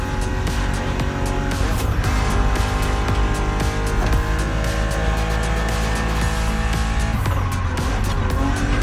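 A BMW Z roadster races in The Crew Motorfest, its engine droning loud and constant with squealing, skidding tires as it is pushed hard, the noise dense and unbroken throughout.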